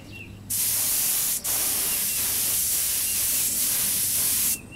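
A spray gun lays clear coat onto a Honda NS 250 restoration part in a loud, steady hiss that starts abruptly, breaks off for an instant, then carries on for several seconds before stopping.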